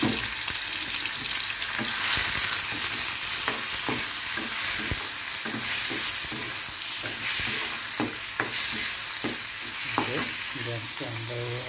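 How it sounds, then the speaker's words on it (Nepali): Chicken sizzles loudly in a hot pan as the first step of a Chinese chicken soup, with steady frying and repeated stirring scrapes close by throughout. "अब स्टार्टिङमा चाहिँ हामी चिकनलाई फ्राई गर्छौँ।"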